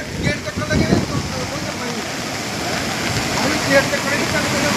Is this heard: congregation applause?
no